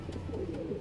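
A racing pigeon that has just won a lap and comes back soaking wet gives soft, low coos close by, several short murmuring pulses over a muffled background hum.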